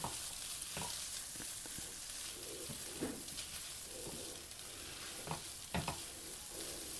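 Spicy fried noodles with a fish topping are stirred in a pan: a soft, fairly quiet sizzle runs throughout, dotted with scattered clinks and scrapes of a spatula against the pan, and no one speaks.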